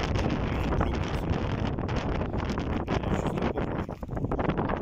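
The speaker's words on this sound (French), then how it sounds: "Il y a beaucoup trop de vent." Strong wind buffets the microphone on the Crozon peninsula coast in Brittany, a steady roaring rush with gusty swells that stays loud throughout, with no talking.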